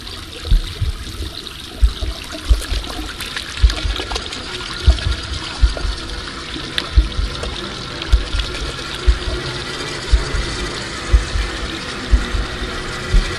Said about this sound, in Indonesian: Gua cuci tangan gua terlebih dahulu.